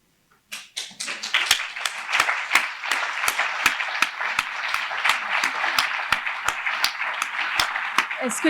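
A round of applause starts abruptly and continues, individual claps sharp and close, a moderately sized group clapping steadily.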